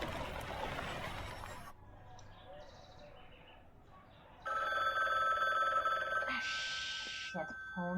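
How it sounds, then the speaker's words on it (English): A telephone rings in bursts of electronic trilling, loud and close, breaking into an otherwise quiet indoor scene with some background noise before it. "Shit, phone."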